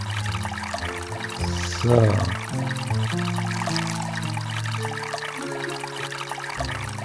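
Tap water pours into a glass in the Maniac Mansion Deluxe adventure game, a short trickling burst near the two-second mark over steady background game music, with a single brief spoken word.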